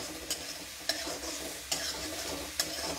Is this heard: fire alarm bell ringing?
no